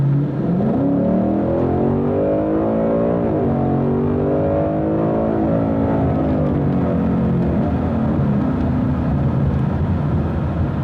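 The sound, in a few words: modded Ford Mustang GT engine accelerating on the road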